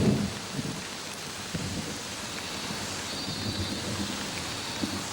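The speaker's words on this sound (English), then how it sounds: "The incessant rains of the monsoon are the last straw." Monsoon rain pours steadily in a jungle, a dense even hiss with low rumbles of distant thunder rolling underneath throughout.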